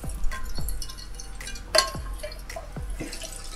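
Excess cooking oil poured out of a cauldron used for pork kebab over a campfire, heard as a few faint, sporadic splashes and drips with a small metallic clink, in a quiet outdoor setting.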